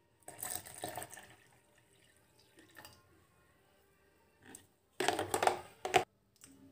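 Water poured into a mixer jar while making juice, short splashing bursts near the start and a louder gushing pour toward the end, with quiet gaps between.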